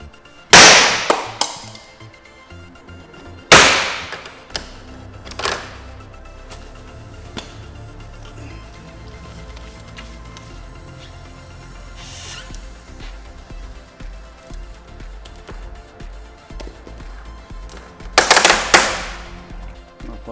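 A robo lifter glue-pulls paintless dent repair tabs on an aluminum Jaguar panel, giving several sharp, loud snapping pops spaced irregularly over a low background hum, close by.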